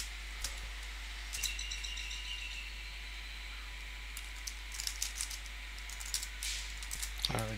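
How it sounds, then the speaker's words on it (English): Computer keyboard typing in scattered short bursts of clicks, recorded close, while a command is entered on a laptop; faint bird chirps are heard in the background. "we again type this"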